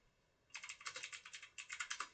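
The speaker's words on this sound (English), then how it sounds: "I can't use a forward slash on my keyboard" Rapid keystrokes on a computer keyboard, clattering in a quick, uneven run, then a short pause and a second burst, close and fairly loud with nothing else heard.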